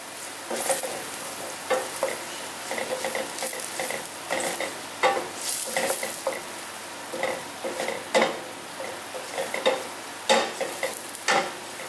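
Spelt patties fry in a little oil with a continuous close sizzle broken by repeated crackling pops and light utensil clicks, heard alone with no talk.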